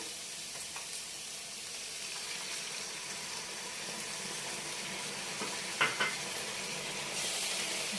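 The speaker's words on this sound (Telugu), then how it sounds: "ఇప్పుడు పాలు పోసుకుందాం" Cooked milk poured into ash gourd halwa frying in ghee sets off a steady, moderately loud sizzle with a watery, bubbling hiss and a couple of brief clinks near the end. No talking.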